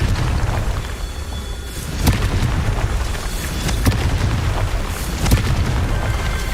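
Repeated Confringo fire-curse blasts in Hogwarts Legacy, sharp booming bursts landing every second or two over a dense, rumbling battle din, fairly loud and close.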